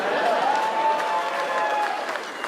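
An audience at a stand-up comedy show claps in a brief burst of scattered applause mixed with crowd noise, fading slightly near the end.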